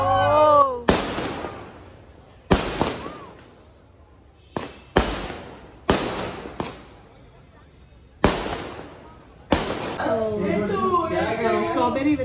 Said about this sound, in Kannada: 80 feet ರೋಡಿಗೆ ಯಾರೋ ಪಟಾಕಿ ಹಾಕ್ತಾ ಇದೆ, ಹಚ್ತಾ ಇದ್ದಾರೆ ಪೊಲೀಸರು.